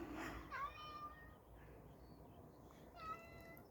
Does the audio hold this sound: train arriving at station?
no